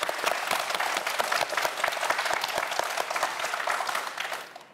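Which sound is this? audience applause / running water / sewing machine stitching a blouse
audience applause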